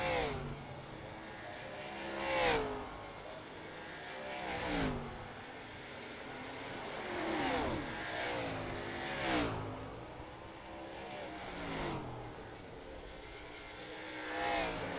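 Sim race cars cross the start-finish line at Phoenix in a racing video game, with engines whining and shifting pitch as several cars pass in turn, fairly faint and distant.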